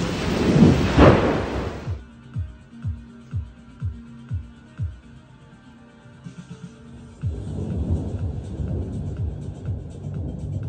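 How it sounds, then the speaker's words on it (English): A heavy thunderstorm in Goa opens with a loud, close thunderclap and rumble, followed by a quieter stretch of repeated soft thuds before heavy rain builds into a steady, loud downpour. "heavy rainstorm, storms, rain"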